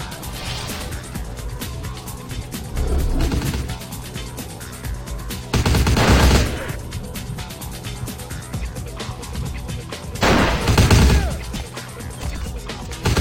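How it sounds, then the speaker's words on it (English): Gunfire in Vampire The Masquerade Bloodlines, with a crowd of enemies shooting outside a building: scattered cracks and impacts over a constant noisy din, with a few louder bursts standing out. "I think everyone inside the building has come out here to shoot me."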